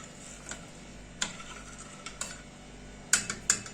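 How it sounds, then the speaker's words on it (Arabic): A spoon stirs sugar into a pot of cooked milk vermicelli pudding, giving soft scattered clinks and scrapes against the pot, with a few sharper knocks near the end, fairly faint and with no talk. "نقلب كويس"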